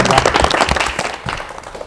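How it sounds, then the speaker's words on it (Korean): A TV studio audience applauds to welcome a guest painter onto a 1985 Korean talk show, a dense, loud burst of clapping filling the short moment with no voices over it. "박수로 맞이해 주십시오."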